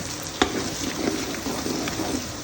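Chopped capsicum and onion fry in a pan for tadka khichdi, giving a steady close sizzle with a few stirring scrapes and small pops.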